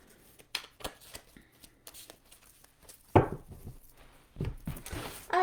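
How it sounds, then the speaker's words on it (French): Oracle cards are shuffled and drawn by hand in a quiet room, giving soft rustles and a few sharp riffling bursts of card against card, close and fairly faint. "Je vais te tirer deux cartes"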